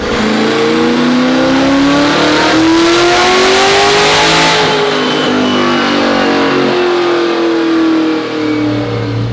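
Twin-turbo C8 Corvette making about 1200 horsepower revs hard on a dyno. The engine roar climbs steadily in pitch, peaks, then eases slightly, loud and close throughout with no talking.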